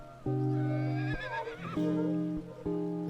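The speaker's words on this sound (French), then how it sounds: "Est-ce que vous avez attaché les chevaux, Madame Anna?" Horses neighing in a dubbed drama series, loud close whinnies in several bursts with a rough, shaky middle section and brief gaps between calls.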